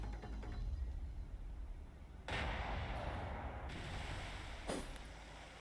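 Naval gunfire in the War on the Sea video game, with heavy booming blasts over a loud continuous rumble, a big burst midway and another distant thump near the end, with no talk.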